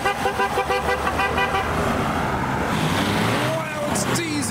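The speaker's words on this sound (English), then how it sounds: "Listen to the Jag. It sounds wet." A Jaguar car engine with a wet, burbling tone runs close by amid passing traffic and a brief horn toot, with people talking over it.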